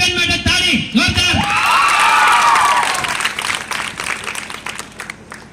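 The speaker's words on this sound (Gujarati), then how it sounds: "પારુબેન માટે તાળી જોરદાર" A school farewell programme crowd breaks into loud applause for Paruben, with cheers and whoops rising over the clapping, then tapering off while voices carry on underneath.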